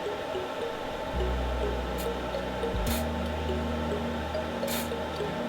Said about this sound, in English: simply point and shoot a spurts of oil into the location shown in the image here